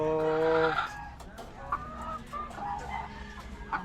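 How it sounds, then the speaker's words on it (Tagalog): Chickens cluck and squawk nearby, with a rooster's drawn-out crow at the start followed by scattered clucking. "nandito na tayo sa kulungan ng mga manok"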